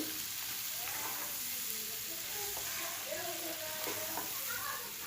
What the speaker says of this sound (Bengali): ঢেঁড়সগুলো দিয়ে নেড়ে চেড়ে নিচ্ছি